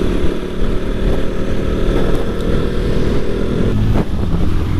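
A motorcycle climbs steep hill roads, its engine growling steadily and loudly up close, mixed with wind rush and a couple of brief bumps near the end.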